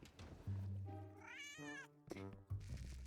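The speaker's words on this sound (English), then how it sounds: "That's the cat." A cat meows in a drawn-out, rising and falling wail, followed by a shorter second meow, close and clear over low background sound.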